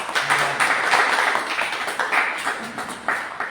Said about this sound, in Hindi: जोरदार ताली के साथ हम आपको